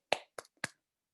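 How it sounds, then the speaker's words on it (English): Three sparse, soft claps spaced about a quarter second apart, quiet and close, followed by silence, as a Wakefield Youth Council meeting applauds a newly elected voting member. "Clap, everyone."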